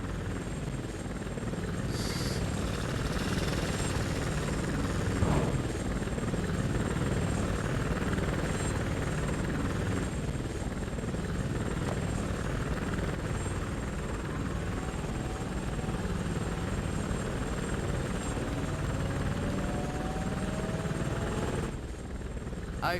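A plane's engines roar in a video game escape scene as a character flees by aircraft, a steady, loud, continuous drone that holds throughout with little change.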